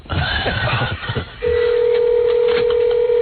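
A telephone is dialed: a rapid run of tone beeps over muffled talk and background noise, followed by a steady, loud dial tone that holds to the end.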